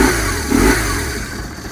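A 1997 BMW R850R motorcycle engine runs loudly and close, rising briefly in a rev before settling back to a steady running drone, with no talk over it.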